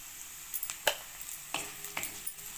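Vegetables being stirred and roasted with turmeric in a pan for a mixed-vegetable paratha filling, with quiet scattered scrapes and taps of the spoon over a faint sizzle.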